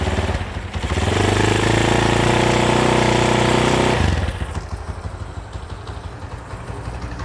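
A Honda CB motorcycle engine with a fault is revved hard and held high for a few seconds, then drops back to a rough, steady idle, loud and close with no talking.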